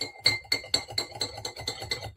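A spoon stirs honey-sweetened hot white clover leaf tea in a glass, giving a quick run of about eight bright clinks against the sides, close and fairly soft, with no talking.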